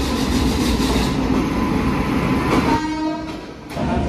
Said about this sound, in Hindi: हमारी ट्रेन सामने वाले प्लेटफॉर्म पे आ गई है